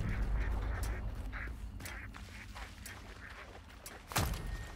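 Ducks in the video game Hunt Showdown quack repeatedly in short scattered calls, fairly close, over a low background rumble, with a sharp louder sound near the end.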